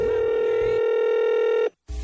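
Telephone dialing for a prank call on a radio show, a loud steady electronic tone with a sharp cutoff followed by a brief silence, then the next sound begins.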